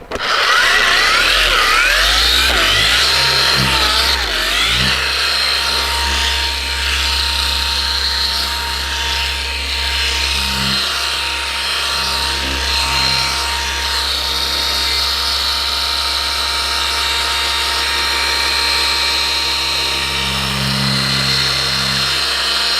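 A power tool whines loudly and steadily while smoothing the peeling clear coat on a Chrysler Crossfire, its pitch wavering slightly as pressure shifts, with a low motor hum underneath.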